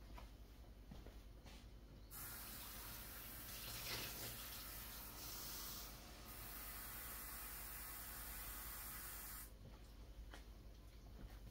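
Tap water runs into a measuring cup for a caramel apple poke cake, a steady hiss lasting about seven seconds and then cutting off, with quiet kitchen background before and after and no talking.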